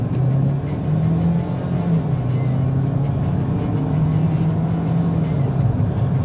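A 2025 Ford Maverick XLT FX4 with the 2.0L engine pulls away under moderate acceleration, its steady droning engine note rising and dipping as it builds speed, heard from inside the cabin without talk.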